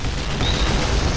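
A flashbang goes off in the Point Blank shooter game, a loud, dense blast of broadband noise that fills the whole moment with a rumbling low end.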